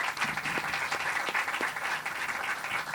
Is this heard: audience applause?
yes